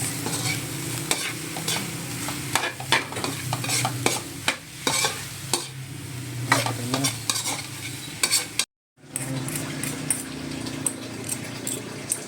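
Bitter gourd sautéed with egg is stirred in a hot pan, a steady sizzle carrying repeated scraping strokes of the spatula in an irregular rhythm, close and fairly loud, with a brief silent break near the end.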